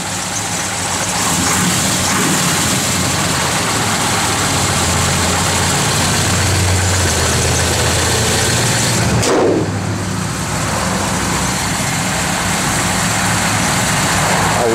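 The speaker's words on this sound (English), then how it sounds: "Car runs strong." A 1969 Dodge Dart Swinger V8 with a mild cam idles steadily and loudly up close, a rumbling low engine note running continuously with a brief change in texture midway.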